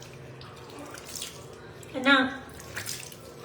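Water from a tap splashes briefly during a nighttime face wash, a short louder burst in the middle of a soft continuous background while a person speaks nearby.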